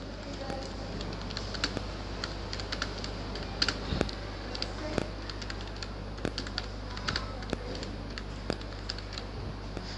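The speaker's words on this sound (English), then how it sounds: "Choose your bullet style like this and type your text here." Fingers tap keys on a computer keyboard in an irregular run of light clicks over a steady electrical hum, with a voice speaking alongside.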